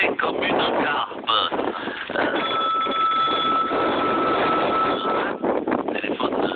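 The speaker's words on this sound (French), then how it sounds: "Téléphone." A telephone rings with a sustained electronic tone through a narrow broadcast-quality line on a French radio show, mixed with background noise and brief talk.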